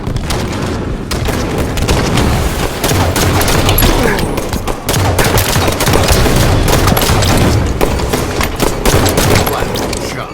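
Dense, continuous video game gunfire with rapid automatic bursts and booms that rattle on nonstop and loud throughout, with voices mixed in under the shooting.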